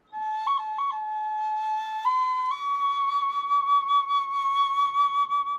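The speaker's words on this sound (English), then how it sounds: "Flutes carved from bone." A bone flute, a replica of instruments excavated at Chavin, played alone in a clear, breathy melody, shifting between a few held pitches, bright and close with no talking.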